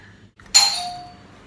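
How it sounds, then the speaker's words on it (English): A single bright electronic doorbell chime rings out close by, its tone lingering and fading over about a second in an otherwise quiet room. "Oh, the doorbell's here."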